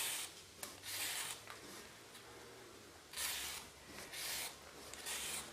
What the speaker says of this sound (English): when you're peeling a carrot, just take it nice and slowly